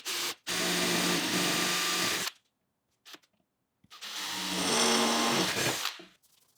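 A power drill whirs in two long bursts while drilling mounting holes for a machine stand, with short blips and a pause between, loud and close.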